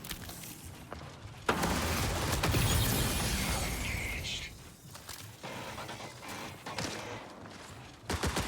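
Submachine gun fire in the video game Marathon comes as a rapid, crackling burst of shots over a low mechanical background, followed by fainter scattered gunfire and game noise.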